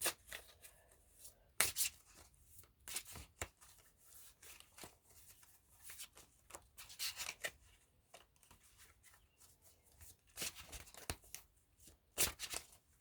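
Tarot cards are shuffled and mixed by hand in short, irregular bursts of riffling and sliding, quiet and close, with pauses between.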